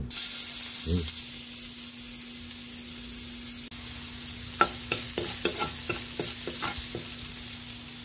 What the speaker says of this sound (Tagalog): Gigisa na po tayo para sa ating picadillo